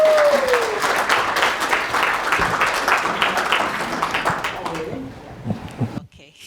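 Audience applause for Grace Oben as she takes the floor at the Rise and Shine Conference 3, a steady dense clapping that carries for about five seconds and then thins out and stops.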